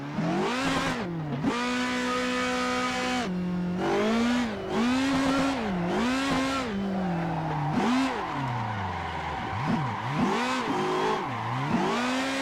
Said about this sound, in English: can you hear the little transmission whine?